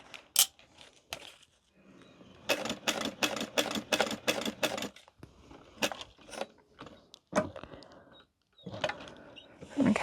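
Hand-cranked sewing machine stitching fabric, bursts of rapid rhythmic clacking in short runs separated by pauses, with occasional clicks and rustles of handling nearby.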